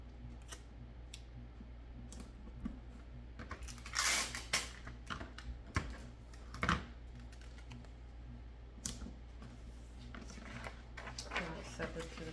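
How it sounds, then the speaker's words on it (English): Paper pattern sheets for a box bag are taped together: scattered soft taps, crinkles and a couple of sharp tape rips, quiet and intermittent in a small room. "And then we're going to tape it."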